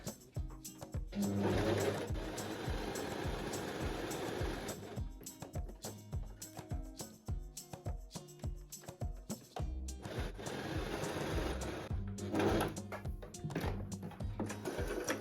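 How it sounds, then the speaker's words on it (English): A sewing machine stitches a wide zigzag stitch on fabric pieces for a summer top, with a steady mechanical whirring in long runs broken by brief stops and a clicking, rhythmic middle stretch. "I'm going to use the biggest zigzag stitch that I have."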